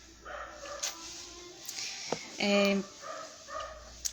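Small dogs bark in a few short, yappy bursts around someone speaking in Portuguese, with the sharpest, loudest bark cluster in the middle.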